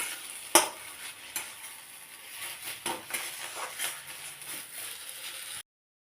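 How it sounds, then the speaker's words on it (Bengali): A spatula stirs a semolina filling with coriander leaves as it fries in a kadai, giving a few sharp scrapes and taps over a soft, faint sizzle before it cuts off. "এবার আমি একটু নেড়ে পরে নামিয়ে দেব"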